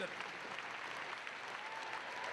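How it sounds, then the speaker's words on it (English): Audience applause at a Ball State University fall commencement ceremony, a steady wash of clapping from a large crowd that holds evenly throughout. "Give Quentin Zoki a round of applause"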